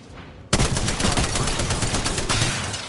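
Sniper gunfire in a video game, a sudden loud crack followed by sustained rapid shooting and dense gunfire that continues with little pause, close and harsh.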